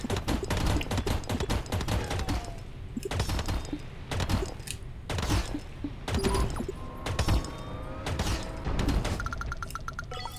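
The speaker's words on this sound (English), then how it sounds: "Rapid fire." A rapid-fire weapon in a space asteroid-breaking video game shoots dense, fast bursts of punchy shots with thuds and impacts layered over continuous loud game sound.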